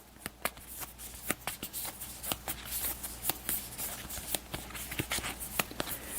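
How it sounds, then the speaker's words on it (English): Animation cards from a Disney board game are shuffled, giving quick rapid riffling bursts and sharp taps close by, with no talking. "We'll just give these animation cards a quick shuffle."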